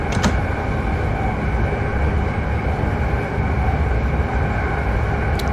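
A steady, loud rumbling drone fills the whole stretch as an SGM train runs at 140 in Train Simulator 2019, with faint rail clicks near the start and end.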